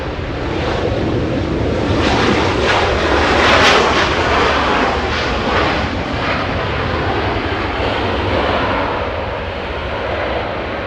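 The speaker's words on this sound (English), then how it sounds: "It's a Delta 737, Delta's 2901, flying in from Orlando, Florida." Delta Boeing 737 jet arriving from Orlando at Los Angeles International, a steady loud engine roar that builds slightly and then eases off as it passes, with no voices.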